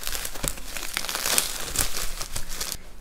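Crinkly plastic packaging for gel nail supplies being torn and crumpled open, a dense, continuous close-up rustle with sharper rips scattered through it and no talking.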